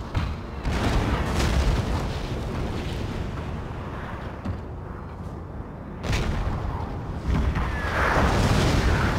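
Napoleon: Total War battle audio carries heavy booming cannon artillery fire, dense rumbling blasts and bursts that roll on almost continuously, with a few sharper reports standing out.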